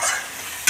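Mutton fat curry being stirred and sautéed in a hot pan gives a brief, loud sizzle with scraping spatula strokes, close up and without voices.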